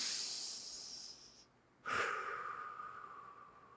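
Quick, deep breaths drawn in and pushed out close by, a steady airy rush that breaks off in a brief pause, then resumes with a sharp inhale and continues loudly.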